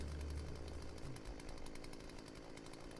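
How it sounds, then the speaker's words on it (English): A chainsaw in the zombie survival game Dead State Reanimated revs loudly at first with a deep chugging roar, then settles into a steadier, thinner buzz that keeps running to the end, with no talking over it. "A little bit of chainsaw in my life."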